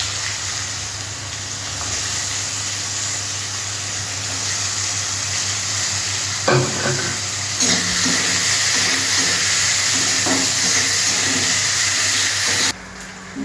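Chopped onion fries in hot oil for a Bengali katla fish curry with pumpkin and potato. A steady sizzling hiss runs throughout, with a few clinks and stirring knocks partway through before it cuts off abruptly.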